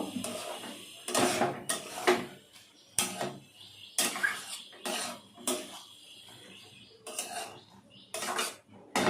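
Banana flower and prawn curry (mocha chingri) being stirred in a metal pan, repeated bursts of spatula scraping and clanking against the pan with short pauses, close and fairly loud.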